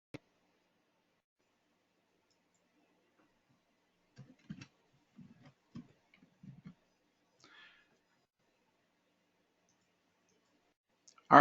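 A computer mouse clicking through stock charts in a quiet room, with a handful of faint, sparse single clicks spread out over the stretch and one louder click at the very end.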